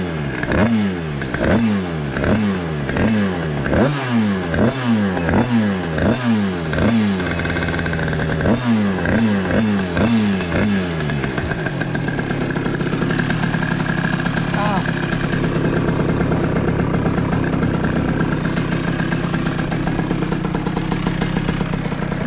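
A Sherco motorcycle's freshly rebuilt 86 cc Top Alu engine warms up, first with rhythmic throttle blips and revving pulses, then settling into a steady close, rattly idle.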